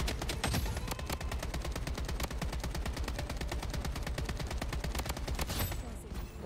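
Rapid automatic P90 gunfire in the video game Blood Strike rattles in a steady, dense stream of shots for several seconds, loud and continuous with no talking.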